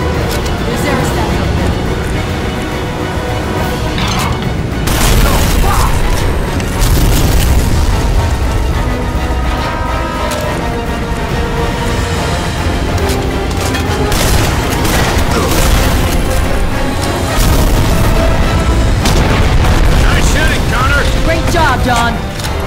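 Loud, dense battle sound from the Terminator Salvation PC game: repeated booming RPG launcher blasts and explosions with bursts of gunfire, continuous throughout, with voices shouting over the din.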